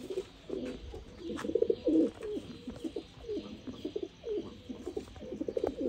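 Pigeons coo in soft, repeated throaty bursts close by, several birds overlapping in an uneven rhythm with brief pauses between calls.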